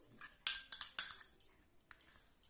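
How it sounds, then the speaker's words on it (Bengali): A spoon mixes potato juice into pointed gourd paste in a small bowl, giving a burst of quick metallic clinks and scrapes, then sparser taps, close and alone. "দিয়ে যে দুটো উপকরণ ভালো করে মিশিয়ে নেবে একটু"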